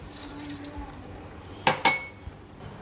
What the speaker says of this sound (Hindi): अब मैं इनको जग में डाल के थोड़ा सा मैं इसमें पानी ऐड करूँगी।